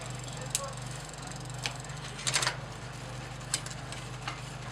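A bicycle being shifted through its gears during derailleur adjustment, with a few light, separate clicks and a brief ratcheting cluster over a low steady hum.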